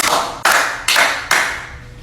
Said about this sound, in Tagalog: O tama, bigyan niyo ng 3 palakpak.